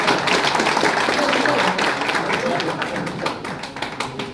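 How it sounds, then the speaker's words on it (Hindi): Audience at an event clapping on request, a burst of applause from a crowd that starts full and slowly thins out over a few seconds. "मेरे लिए ताली बजाओ"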